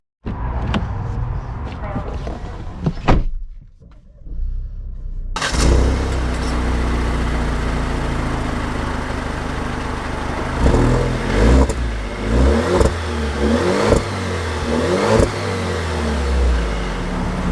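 An Alfa Romeo Stelvio SUV starting off: brief door and handling noises, a pause, then the engine running loudly and steadily up close with repeated rising revs as it accelerates away.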